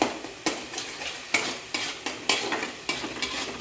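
Spice paste with green chili paste being stir-fried in a pan, with rhythmic spatula scrapes about every half second over a constant low sizzle, close and fairly quiet, no voices.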